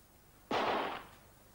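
Single sharp gunshot effect in a Dutch children's audiobook about a mouse sheriff, a loud sudden crack with a short fading tail and no talk over it.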